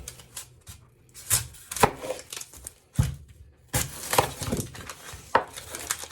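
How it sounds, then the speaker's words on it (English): A knife chops through an onion on a wooden board for a venison chili, giving a run of close, crisp thuds and splintery crunches in uneven bursts. "we're going to chop up this onion here"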